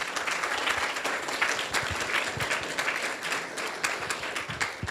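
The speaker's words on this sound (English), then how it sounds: "So we could give him a round of applause." A lecture audience at a fluid mechanics distinguished speaker series claps loudly and continuously for a guest, the many hands blending into a thick, unbroken wash of applause.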